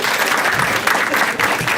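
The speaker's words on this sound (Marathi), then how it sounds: "टाळ्या वाजायच्यासाठी" A comedy-club audience at a Marathi stand-up show breaks into sustained, dense applause, many hands clapping close and continuously throughout.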